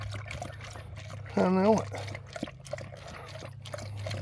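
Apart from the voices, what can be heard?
dog drinking cold water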